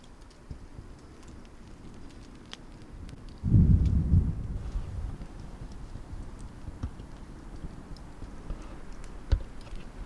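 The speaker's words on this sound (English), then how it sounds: "Some thunder in the distance." A single low rumble of distant thunder rolls briefly, faint beneath quiet outdoor ambience at a wilderness campsite with scattered small ticks.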